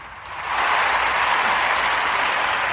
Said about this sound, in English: We're clapping our hands for you.